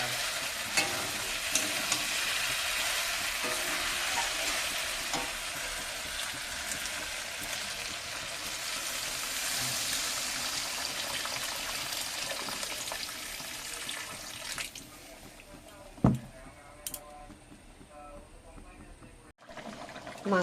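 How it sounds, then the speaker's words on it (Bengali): Meat curry sizzling and frying loudly in a pan with stirring for most of the time, then water poured in, after which the sizzle drops away to quieter bubbling with a few clanks. "এবারে জল দিয়ে দেবো।"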